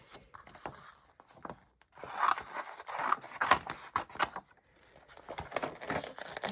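Scissors snip an image out of a glossy magazine page for a collage, with crisp close-up cuts and faint paper rustling in short irregular runs and brief pauses.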